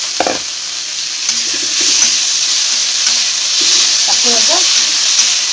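Potatoes fry in a pan for a fish curry, a loud, continuous sizzle up close with occasional stirring clinks and faint movement underneath.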